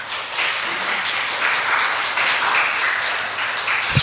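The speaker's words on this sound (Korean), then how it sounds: "하나님께 아름다운 찬양을 올려드린 우리 청년부에게 큰 박수 한번 다시 드립니다." A church congregation applauds its youth choir after a hymn, many hands clapping in a sustained, even wash that carries through to a single soft knock near the end.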